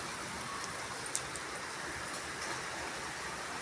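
Rain falls over a residential neighbourhood, making a steady, faint, continuous hiss that is heard alone, with no voices and only a tiny knock partway through.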